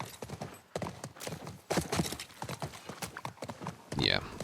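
Horse hooves clip-clop in the video game The Last of Us Remake, a steady run of quick hoofbeats under nearly continuous talking.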